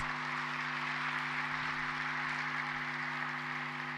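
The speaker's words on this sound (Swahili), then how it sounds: "A big round of applause." An audience at an international neurosurgery conference opening applauds steadily, a soft, distant wash of clapping over a constant low electrical hum.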